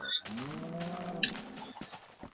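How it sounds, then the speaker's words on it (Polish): Farm animals in the Minecraft video game, a cow mooing in a short low drawn-out call with brief chirps around it, close and clear with no talk. "Są prosiaki, krówcie."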